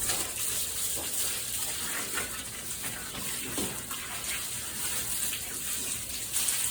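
A garden hose sprays water near an outdoor horse arena, giving a steady, continuous hiss and gush that holds at an even level from start to finish, with no talking over it.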